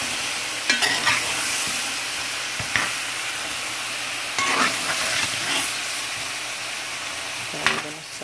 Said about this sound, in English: this is what the oxtail looks like after it's been fried, stirred, fried.